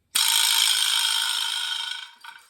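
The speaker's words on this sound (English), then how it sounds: "This one is called the Vibraslap. And it sounds like some teeth chattering away on a very cold day, doesn't it?" A vibraslap is struck once, giving a loud, sudden rattling buzz that sustains and slowly fades over about two seconds, with a brief faint extra rattle at the end.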